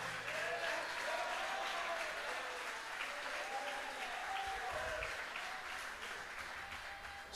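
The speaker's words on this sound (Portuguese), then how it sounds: "Pode aplaudir, porque vale a pena." An audience at an evangelistic crusade sermon applauds in a steady, dense round of clapping that holds throughout and fades slightly toward the end, with faint crowd voices and shouts mixed in.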